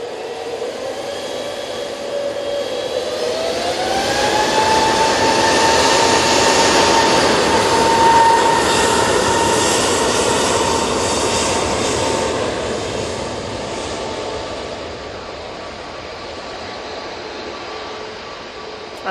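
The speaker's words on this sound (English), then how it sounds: "Off to Barcelona we go, this Jet2 A321neo." A Jet2 Airbus A321neo jet taking off from Manchester Airport, a loud engine roar swelling and rising in pitch, then slowly fading as it climbs away.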